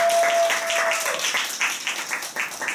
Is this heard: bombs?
no